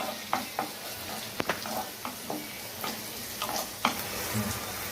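Chopped tomatoes sautéing in oil for a coconut-free fish curry, with a steady close sizzle punctuated by regular scrapes and taps of a spoon stirring the pan.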